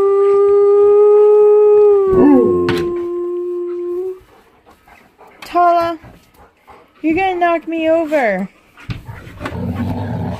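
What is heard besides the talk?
Alaskan Malamute dog howling and growling while playing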